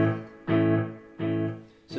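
Guitar notes through an Akai Headrush E2 delay set to a low ratio, three repeats spaced about 0.7 seconds apart, each fading away quickly after its attack.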